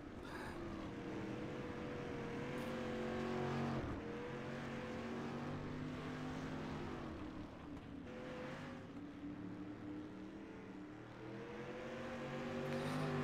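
Dirt street stock race cars roar around the track in a steady, droning engine chorus, with pitch rising and falling as the pack circles, heard from some distance and without talk.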